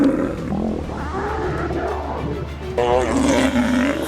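Two lions fighting near the Rufiji River, their loud, growling roars rising and falling close by, with a sharper burst of snarling near the end and a narrator's voice running beneath.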